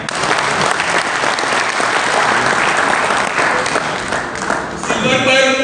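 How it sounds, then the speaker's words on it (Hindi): Loud, sustained applause from an audience at a business meeting, dense clapping that runs steadily throughout and rises slightly near the end. "जोरदार तालियां।"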